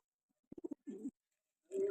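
Pigeons in a home loft give a quick run of soft coos followed by longer throaty calls, close and quiet in an otherwise still space.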